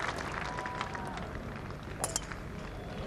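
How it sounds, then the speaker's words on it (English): Crowd applause at the 150th Open Championship as Lee Trevino reaches the tee: a broad, sustained roar of clapping from a large outdoor gallery, steady and distant, with a few sharper claps near the end. "I think even the people in Dundee were clapping then."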